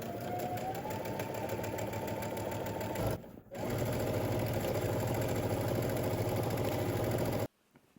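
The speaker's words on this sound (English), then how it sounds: "So that's what I'm gonna head to the sewing machine and do." A sewing machine runs steadily while stitching a skirt hem, a fast rhythmic whirring hum with a brief pause near three seconds before resuming and then stopping abruptly.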